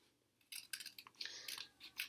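Close, crisp snipping of scissors through paper, a quick run of short cuts one after another with brief pauses, no voices.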